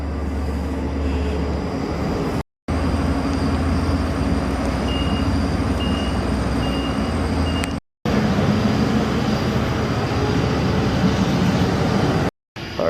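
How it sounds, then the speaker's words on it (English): A Long Island Rail Road train pulling into a station, a loud steady rumble and rolling roar close by that fills the whole stretch, with a faint high whine over it and a few brief cuts. "Here comes the train."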